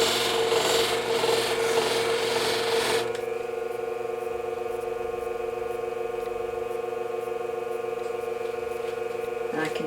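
Barber shears are polished on a Scimech sharpener, giving a loud, close, rasping grind for about three seconds that then cuts to a steady, quieter motor hum with a faint rubbing scrape.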